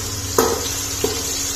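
Chillies fry in hot oil in a wok with a soft, steady sizzle, broken by two brief clanks of a utensil against the pan.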